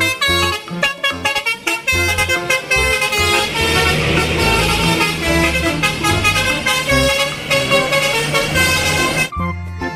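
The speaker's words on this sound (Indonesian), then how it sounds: "lihat di sini ada mobil bus telolet" A toy telolet bus horn plays a loud, continuous melodic honking tune in close, bright tones that run almost without a break before cutting off near the end.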